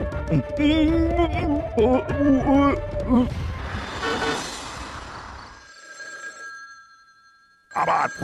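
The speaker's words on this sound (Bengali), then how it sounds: "বাজছে এত রাতে কি কেউ উল্টো পাল্টা ফোন করবে" A telephone rings at night in a Bengali cartoon: after a stretch of lively music and cartoon voices, a steady electronic ringing tone sounds, fades, then returns loudly at the very end.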